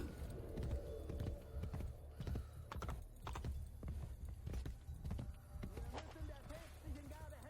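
Galloping horse hooves from Assassin's Creed Brotherhood gameplay, with Ezio riding, as a steady clip-clop rhythm runs throughout beneath game voices and music.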